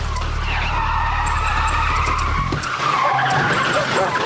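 A stolen car speeds off with a long loud tire skid and squeal over a roaring engine, close and continuous for several seconds before the engine note changes as it pulls away.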